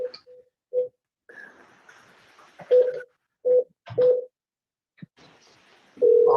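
Telephone dialing and call-progress tones while a number is redialed in a courtroom, short separate tone bursts with gaps and a longer steady tone at the end, fairly clear over a quiet room.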